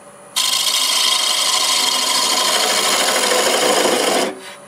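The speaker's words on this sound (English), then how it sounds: "I'm going to go ahead and use the negative rake scraper now" A negative rake scraper works a macadamia wood bowl on a lathe, giving a loud, continuous raspy scraping that holds steady for about four seconds before cutting off.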